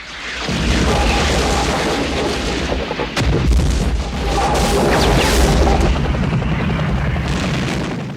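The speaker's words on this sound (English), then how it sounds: "They were real explosions." Heavy, sustained booming blasts of real pyrotechnic explosions from the film Apocalypse Now, with deep rumble and crackling debris, continuous and loud across several seconds.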